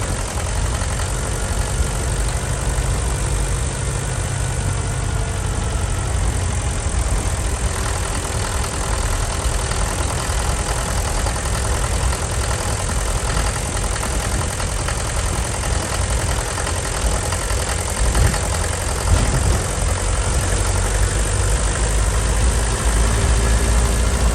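A Mercedes 308D motorhome's diesel engine idles steadily and loud up close, a continuous low rumble with faint knocking that holds unchanged throughout, with no voices over it.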